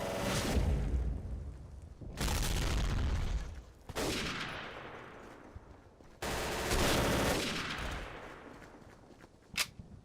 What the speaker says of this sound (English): Oh, dropping the grenade.